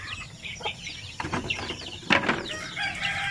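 Hens clucking in a crowded coop of about sixteen birds, several nearby calls overlapping in short bursts with a brief flutter of wings.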